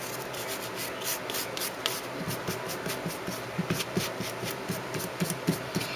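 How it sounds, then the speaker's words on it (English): A small dust brush sweeps filing dust off gel overlay nails in quick, soft repeated bristle strokes, a light rhythmic swishing that is fairly faint and close. "go back again with your little dust brush, and you want to brush all the excess off"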